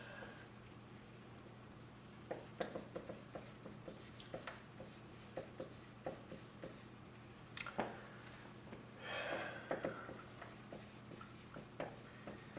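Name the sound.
writing lecture notes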